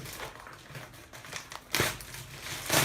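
An air-cushioned plastic bag from Razer BlackWidow Chroma keyboard packaging crinkles close up in irregular crackling bursts, with louder crunches toward the end.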